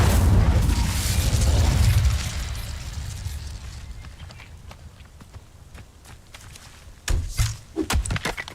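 A fiery Incendio spell cast in Hogwarts Legacy erupts with a loud, roaring whoosh that fades into a low crackle, followed later by a few sharp magical bursts near the end.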